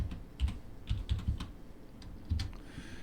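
Fingers type on a computer keyboard while writing JavaScript code, with quick uneven bursts of soft clicks and thumps, close and fairly quiet, and short pauses between words.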